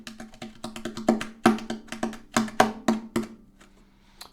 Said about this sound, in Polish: Tapping na pudle.